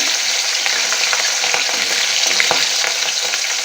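Rohu fish frying in hot oil gives a loud, continuous crackling sizzle up close, with small spitting pops throughout and no talking.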